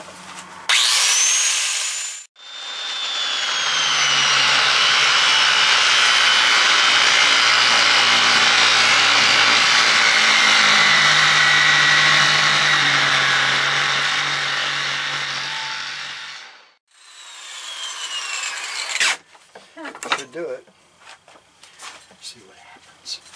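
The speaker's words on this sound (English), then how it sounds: "It's kind of noisy, an angle grinder." An angle grinder cuts metal during a tomahawk build, a loud, sustained whining screech running about fourteen seconds before spinning down, followed by shorter bursts and clatter nearby.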